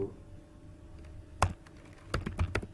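Someone types on a computer keyboard in short bursts of quick clicking keystrokes, quiet at first and then busier near the end, close to the microphone.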